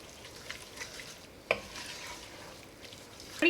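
Carrot cake jam with ground nutmeg and other spices being stirred in a pot, soft scraping and gentle bubbling with a couple of sharp clinks of the spoon against the pot, no talking.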